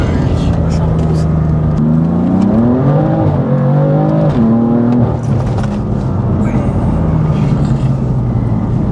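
A BMW M4 car's engine rises in pitch as it accelerates hard, loud and close from inside the cabin, climbing through a gear before easing back, with faint voices underneath.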